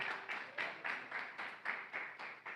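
A congregation claps during a church sermon, a faint, distant, rhythmic series of about nine even hand claps spaced roughly a third of a second apart, with no talking over them.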